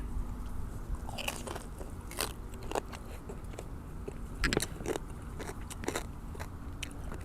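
Sharp, close crunches from biting into crispy Thai roast pork belly with a crackling skin, several distinct crisp bites spaced irregularly over soft chewing, with no talking.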